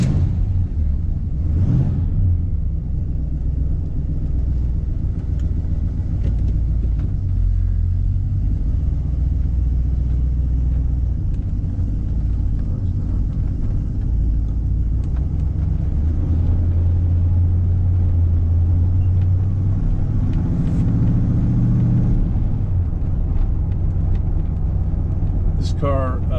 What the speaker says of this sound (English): we're gonna go for a drive in my 1970 Pontiac GTO